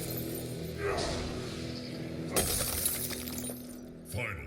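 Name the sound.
glass shatter effect in Mortal Kombat XL video game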